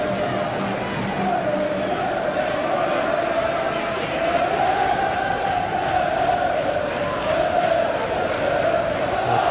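Steady roar of a roughly 20,000-strong football crowd at a 1999/00 Charlton Athletic v Huddersfield Town match, a continuous dense murmur with no distinct chants, heard from within the stadium.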